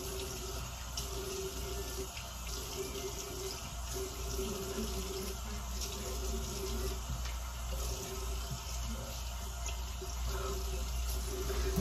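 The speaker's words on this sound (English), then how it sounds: "Rinse my mouth. Boom. Then I rinse my face." Water runs steadily from a bathroom tap while someone rinses their face, making a continuous close splashing flow with small irregular splatters and no talking.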